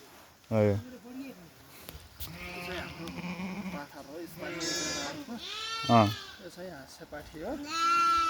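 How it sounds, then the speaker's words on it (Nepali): Jumli sheep and lambs bleat in a Nepali village during Dashain, several loud wavering calls from different animals overlapping, with a person talking among the flock. "यही खास जुम्ली भेडाहरू भनेको यही हो"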